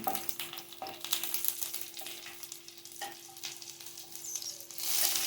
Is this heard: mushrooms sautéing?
yes